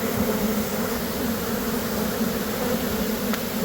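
Honey bees buzzing at a beehive during a removal, a dense, continuous droning hum of many insects close by with no talking.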